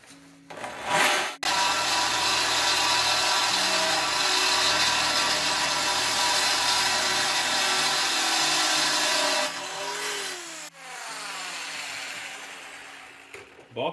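A power drill bores a hole, a loud steady close whine that holds for about eight seconds, eases briefly, then runs again at a slightly lower pitch before stopping.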